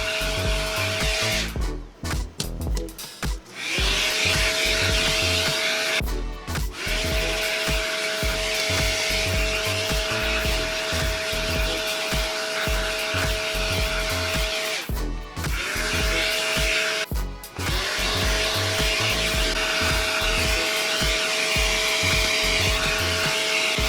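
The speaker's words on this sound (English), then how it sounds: "and then I'm going to vacuum it again" A loud vacuum cleaner drones continuously close by, cleaning dust from a PC cooler, its whine briefly dipping and surging a few times as the nozzle is moved against objects.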